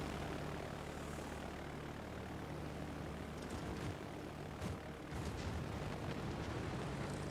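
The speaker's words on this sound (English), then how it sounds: "I adjust my carrier to head straight towards his direction again and launch my 2 torpedo bombers." Torpedo bombers launching from a carrier in World of Warships: Legends, a steady roaring aircraft engine drone with a few brief bursts near the end, continuous and fairly quiet.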